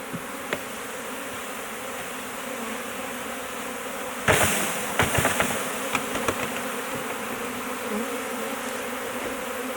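A honeybee swarm at a Layens hive drones with a steady buzzing hum, and sharp knocks and bumps break in near the middle.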